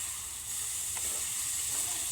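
Chopped onion and salt frying in a pan make a steady, moderately loud hiss with a faint crackle, close by, continuous for the whole stretch, with no talking.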